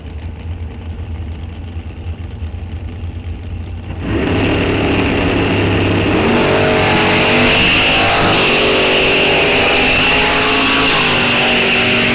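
Drag racing cars at Rock Falls Raceway, one a 1969 Camaro, idle together with a steady low rumble, then launch in a sudden loud surge of engine roar that holds as the cars accelerate down the strip.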